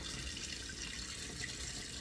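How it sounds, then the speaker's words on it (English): Water runs steadily from a bathroom sink tap, a continuous close hiss and splash with no pauses, no voices. "So I'm running the tap here."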